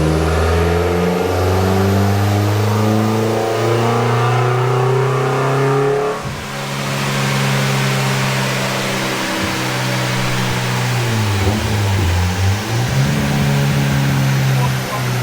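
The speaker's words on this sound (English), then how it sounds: "The Jazz has had over 100 dyno runs." A Honda Jazz with a K-series engine swaps in is run hard on a dyno. Its loud revs climb in long pulls, drop off briefly, then rise again in a second sweep.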